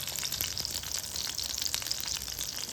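Eggplant (vankaya) pieces frying in oil in a pan, a steady dense sizzle with fine crackling and popping throughout, close and even in loudness with no talking.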